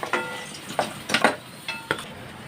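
Salt- and turmeric-coated potato pieces are lifted out of a frying pan, with a handful of distinct metal utensil scrapes and clinks over a soft background sizzle of hot oil.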